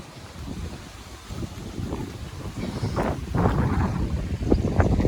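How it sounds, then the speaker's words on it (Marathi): Wind blowing outdoors on a cool monsoon day beside a village cricket ground, a steady broadband rush with gusts that swell louder toward the end, with no talk. "मस्त वारा आहे ना."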